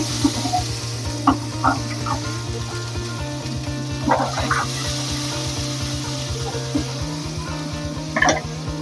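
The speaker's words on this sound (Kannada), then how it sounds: "ಕಡಲೆಬೇಳೆ ಹಾಕೊಂಡು ಫ್ರೈ ಮಾಡ್ಕೊಳ್ಳೋಣ" Chana dal frying in a pan, a soft steady sizzle up close, broken by scattered clinks and scrapes of a spoon, over a constant low mechanical hum.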